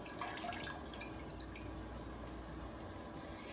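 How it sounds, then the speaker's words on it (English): Water, and then evaporated milk, is poured into a pot for Southern cheese grits, giving a faint, steady liquid trickle with light drips and splashes throughout. "We're going to add in 2 cups of water and 1 1/4 cups of my favorite milk, evaporated milk."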